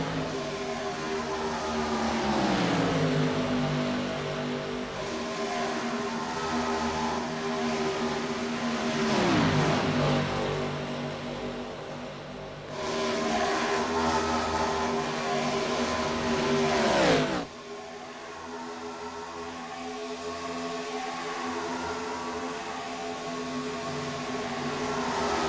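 IROC race cars roar past on the Talladega oval, engines swelling loud as each car nears, then falling in pitch as it passes and fades, several pass-bys in a row with a sudden drop toward quieter track noise.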